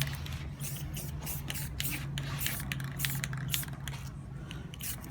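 Black spray paint misting from an aerosol can, held sideways over another color, gives a steady soft hiss with short bursts across the whole stretch, fairly close and alone without talk.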